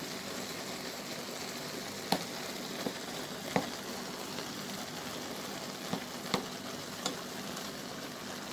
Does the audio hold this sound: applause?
no